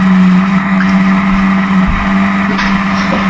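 Historic Formula Ford race cars battling at Brands Hatch, a loud, close engine drone holding a steady pitch with brief surges as cars pass, no talk.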